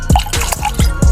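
Liquid pours out in a few close, wet splashes, like dripping or spattering onto a surface, in quick uneven succession.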